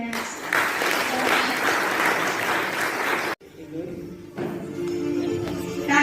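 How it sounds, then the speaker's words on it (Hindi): An audience at a New Year celebration program at the Om Shanti Bhawan in Indore claps loudly and continuously, the applause dropping away suddenly partway through before a softer burst of clapping returns. "तालियां बजाएंगे जरूर।"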